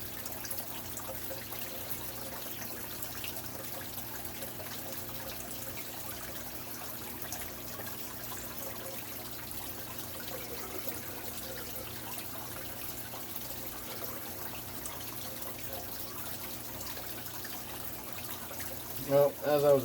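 Water poured from a cup into an aquarium waterfall tank while adding ground eggshells, a soft continuous trickle and splash against steady background hum, with a few louder splashes near the end.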